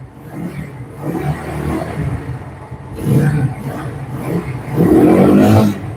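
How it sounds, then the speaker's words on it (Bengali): A kick-start motorcycle engine runs close by, idling with a rough, smoky rumble and rising in short revs. "টোকা স্টার্ট মানে টোকায় টোকায় স্টার্ট ইঞ্জিনের সাউন্ড কি দেখেন ভাই"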